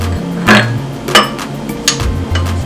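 Ice cubes clatter into a bowl in a few separate hard clunks, close and fairly loud, spaced out over a couple of seconds.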